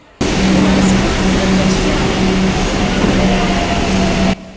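A Kolkata metro train rumbles loudly and continuously inside the carriage, with a steady low tonal hum over the rolling noise. The sound starts and stops abruptly.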